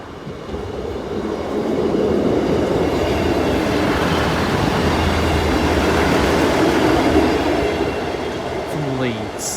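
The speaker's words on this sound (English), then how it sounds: "Train approaching." Train passing over the Brayford level crossing, a steady loud rumble building up and holding as the carriages roll past close by, ending with a short squeal of wheels.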